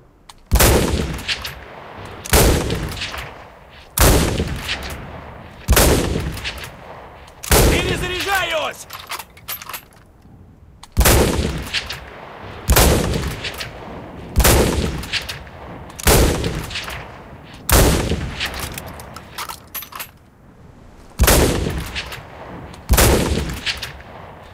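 Shots from a Mosin Nagant M1891/30 rifle in Enlisted ring out one at a time, about a dozen loud, close cracks with echoing tails, spaced roughly two seconds apart, with one brief metallic bolt-cycling sound between them.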